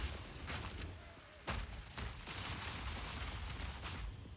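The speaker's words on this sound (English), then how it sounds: "That's a lot of explosions." Cluster grenade explosions in the video game Path of Exile 2, a dense run of sharp bursts and booms layered over continuous game noise, with strong blasts near the start and middle.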